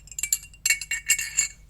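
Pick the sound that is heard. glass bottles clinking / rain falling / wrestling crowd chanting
glass bottles clinking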